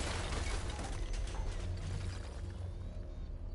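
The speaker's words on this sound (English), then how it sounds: "Oh, power wrench." A power wrench ratchets in the Batman Arkham Knight video game, a dense, steady mechanical grinding and clicking that runs loud and unbroken throughout, with a heavy low rumble underneath and no talking.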